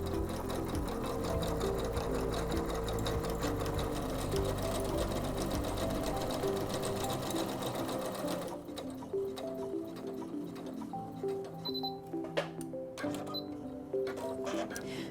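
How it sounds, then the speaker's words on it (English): A SINGER C430 sewing machine runs a programmed stitch sequence, its needle ticking in a fast, steady mechanical rhythm close up; partway through the motor drops to a lighter, sparser clatter of individual stitches before stopping. "I want to sew it one time and have the machine stop automatically"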